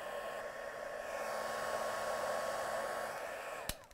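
A hair dryer blows steadily on stamped ink during a marbling craft project, with a constant broadband whoosh that ends in a few clicks as it is switched off.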